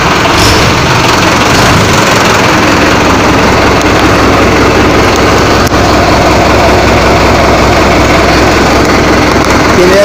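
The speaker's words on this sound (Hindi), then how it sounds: "देखिए ट्रैक्टर की आवाज़ कैसी लगी" A loud Mahindra diesel tractor engine idles nearby with a continuous, even chug that never changes pace.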